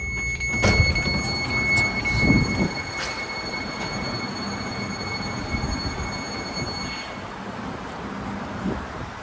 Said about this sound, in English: That's a southbound local train making all the stops to Diridon Station in San Jose.